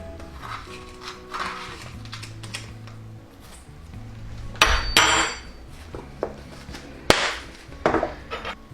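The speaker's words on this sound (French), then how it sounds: "Mélangez bien le tout et vous avez maintenant votre mélange d'épices pour les bagels" Bagel spice blend with flaky sea salt stirred in a bowl: a spoon scrapes and clinks against the sides in uneven bursts, with a few sharper taps, close and with no talking.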